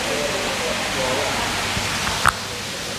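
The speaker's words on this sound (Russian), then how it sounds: "Что меня здесь восхищает, так, конечно же, этот водопад, который сразу же уже создает такую какую-то необыкновенную атмосферу." An indoor waterfall in the lobby of the Centara Grand Beach Resort in Phuket gives off a steady, even rush of falling water that fills the space, broken by one brief sharp click near the end.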